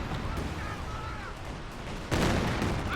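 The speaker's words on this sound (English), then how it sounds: "Calliope barrage targeting the HQ." Calliope rocket barrage striking an HQ in the strategy game Company of Heroes 2: a dense, continuous rumble of rocket fire and explosions, swelling into a louder, heavier burst of impacts toward the end.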